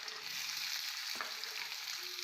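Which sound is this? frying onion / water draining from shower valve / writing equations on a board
frying onion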